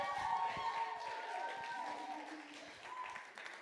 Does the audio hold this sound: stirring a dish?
no